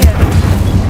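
Incendio fire spell cast in the video game Hogwarts Legacy, a loud, deep whooshing roar with low booming pulses filling the full second at close range.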